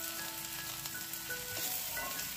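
Several vegetables, pointed gourd, bitter gourd, okra and potatoes, frying together in a pan, giving a steady close sizzle throughout with no talking.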